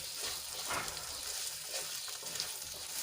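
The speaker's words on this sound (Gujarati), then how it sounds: "ચોળીને આપણે થોડી વાર માટે તેલમાં સાંતળી લઈશું" Cowpeas sautéing in hot oil give a steady, close sizzle with a soft hissing texture and a few brief stirring scrapes, with no voices.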